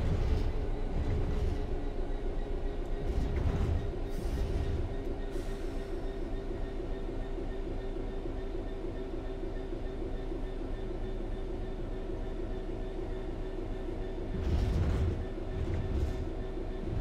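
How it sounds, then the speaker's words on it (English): A locomotive-hauled train in Train Sim World coasts on level track with a steady rumbling rail drone, rhythmic wheel clatter and occasional louder swells, no talking. "The train will then coast on level ground"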